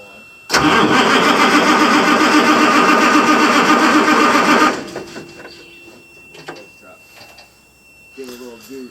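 An army truck engine cranks and fires with a loud, close, clattering start, runs hard for about four seconds, then drops away to a quieter idle, with brief voices near the end.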